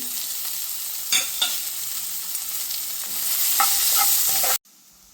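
Onions frying with ginger garlic paste and turmeric in a pan, a steady close sizzle with several sharp spatula scrapes, swelling louder near the end before cutting off abruptly.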